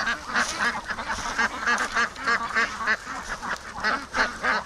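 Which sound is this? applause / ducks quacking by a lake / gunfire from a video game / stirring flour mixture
ducks quacking by a lake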